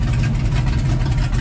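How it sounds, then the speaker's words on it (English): Chevy pickup truck engine idling at an outdoor car show, a steady low rumble held close and loud throughout with no talk over it. "Man, the truck sounding good."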